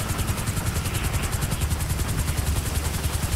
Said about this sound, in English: So I decided to go up in a helicopter to get a bird's eye view